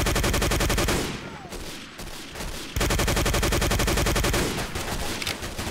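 Loud, rapid automatic weapon fire in Day of Defeat: Source, with long bursts of evenly spaced shots broken by a short pause before firing resumes at full intensity.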